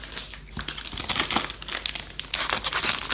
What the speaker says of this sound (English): Tear or cut the Bake at Home chia batter into 1 centimeter cubes.